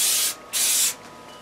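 Two long hissing bursts of spray paint on floater frame moulding, close and loud, separated by a short pause, with a faint hiss lingering afterward.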